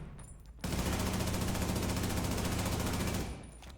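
Rapid automatic gunfire in a video game, a loud, dense burst of shots lasting about three seconds with a sharp start and a quick fade, heard close with no talk.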